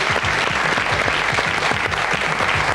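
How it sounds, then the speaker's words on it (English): A television quiz-show studio audience gives a steady round of clapping, dense and continuous throughout at close, even volume, with no talk over it. "A warm round of applause for Pamela Hodkin from Wales."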